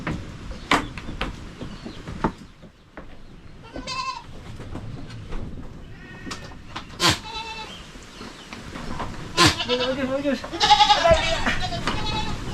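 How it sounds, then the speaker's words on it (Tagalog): Goats, including young kids, bleat on a farm in repeated short calls of varying loudness, some close and sharp, with a person speaking between them. "Kadalasan mga kambing natin dito ngayon, anak pa ni Astro."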